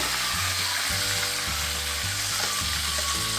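Onion and cashew paste fries in hot oil for a mutton curry, giving a steady close sizzle. A low droning hum with a stop-start rhythm sounds under it, and no one speaks.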